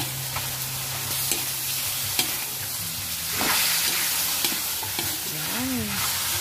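Chicken adobo frying in a pan with pepper, stirred with a utensil; steady close sizzle with occasional scraping strokes, and a faint tonal whine or hum near the end, no talking.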